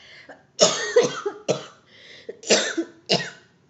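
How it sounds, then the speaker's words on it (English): A sick person with cystic fibrosis coughs up close in four loud, harsh bursts spread across a few seconds, with throat-clearing between them and no speech. "sorry if I cough a lot"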